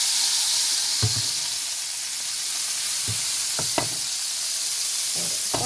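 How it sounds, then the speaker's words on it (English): Butter melting and sizzling in a hot pan before steaks go in, a steady bright hiss with a few soft knocks and pops, close and constant. "Butter melting."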